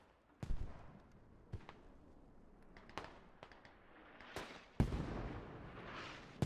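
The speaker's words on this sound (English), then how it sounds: "Seeing some pretty accurate mortar fire coming in." Mortar rounds landing in the military shooter Squad: a string of sharp, booming impacts at irregular intervals, some distant and some closer, with rumbling tails over a quiet battlefield background.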